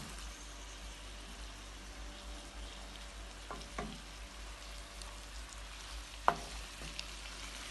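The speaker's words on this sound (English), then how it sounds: "I'm going to let this cook for about a minute" Jamaican ackee and saltfish cooking in a pan, a soft even sizzle with a low hum underneath and a couple of sharp utensil knocks, close and fairly quiet, no talking.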